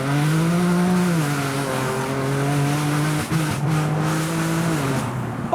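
A BMW M4 fitted with oversized turbos accelerates hard, its engine note climbing and falling in a loud, sustained tone over a layer of turbo hiss, with no talking.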